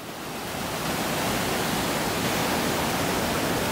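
Caaf Water running through wooded Lynn Glen beside the old upper Craig Mill, a steady broadband rush of flowing river water that swells in the first half second and then holds loud and constant, with no voices.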